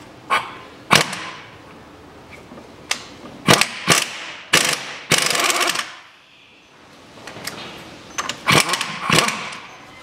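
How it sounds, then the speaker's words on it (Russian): Ratchet tightening a nut on the front axle of a 2001 Nissan X-Trail, a series of loud, close bursts of metallic clicking separated by short pauses. "Откручиваю гайку, то есть закручиваю гайку."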